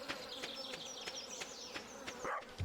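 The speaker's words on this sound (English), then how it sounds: "No, I hear bees now." Bees buzz in the trees in the farming game Stardew Valley, a steady close insect drone with small swells and clicks, alone without talk.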